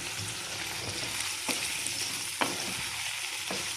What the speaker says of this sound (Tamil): கத்திரிக்காய் சும்மா எண்ணெய் வதங்குற அளவுக்கு இருந்தால் போதும்